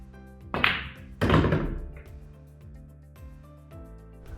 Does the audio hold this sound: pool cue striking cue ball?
yes